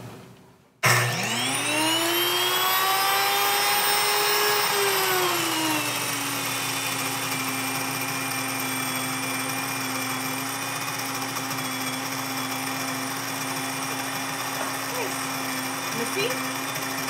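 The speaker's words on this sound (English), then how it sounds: "the purpose of today's video is to grind a bunch of oat flour" Wonder Mill electric grain mill grinding oats into oat flour: a loud motor whine starts abruptly, rises and settles into a steady high-pitched drone close by, running continuously.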